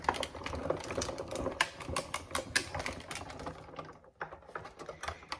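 A Sizzix die-cutting machine cranking dies through between cutting pads, a dense run of rapid clicking ratchet ticks that pauses briefly near the end, then resumes in a few scattered clicks.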